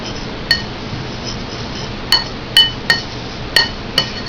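A spoon stirs a dried herbes de Provence mix in a bowl, giving six sharp, ringing clinks against the bowl at uneven intervals over a quiet hissing background.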